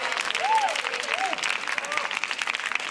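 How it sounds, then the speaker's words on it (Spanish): Studio audience applause for a comedy circus show, steady dense clapping throughout with a voice sliding through an exclamation over it. "Así que lo merecimos otro aplauso"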